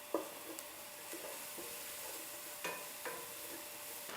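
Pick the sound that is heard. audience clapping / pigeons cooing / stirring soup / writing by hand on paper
stirring soup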